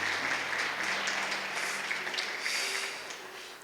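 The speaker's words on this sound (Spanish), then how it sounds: "¿Y qué tal si todos los presentes les brindamos un fuerte aplauso a todos los que están conectados" Audience applause from people gathered in the room at a Spanish-language talk, steady broadband clapping that holds evenly for several seconds before tapering off slightly, fairly quiet and distant.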